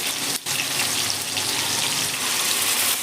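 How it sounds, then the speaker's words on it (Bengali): Chicken pieces hit hot oil in a pan with no tempering spices, giving a loud, dense, continuous sizzle after a brief dip at the start. "এবার আমি চিকেনটা প্রথমে দিয়ে দেবো তেলের মধ্যে"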